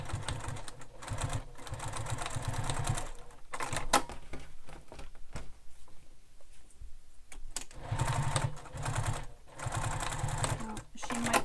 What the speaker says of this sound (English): So I'm going to top stitch this.